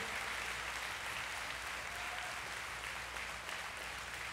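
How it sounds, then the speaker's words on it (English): Dense, sustained applause from a large church audience, a continuous wash of clapping at steady loudness throughout. "Let's give them a round of applause."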